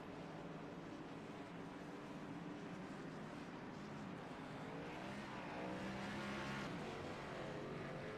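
Stock car engine roaring steadily during an oval race at Michigan, loud and sustained, with tonal revving that shifts as a car spins off into the grass, crowd-level race ambience continuing throughout.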